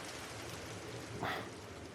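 Steady rain hiss in the video game Trails through Daybreak, an even wash of falling water with a brief brighter splash near the end and no talking.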